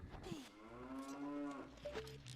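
A cow head target in Zelda: Ocarina of Time Master Quest, inside Jabu-Jabu's Belly, lets out a single drawn-out cartoon moo when shot, clear and fairly quiet against the game's low background.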